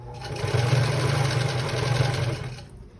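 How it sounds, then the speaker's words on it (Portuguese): A sewing machine runs steadily for about two and a half seconds, stitching seams on a three-pocket bag, with a loud, even mechanical whir close by and no voices. "Pronto, vamos costurar aqui."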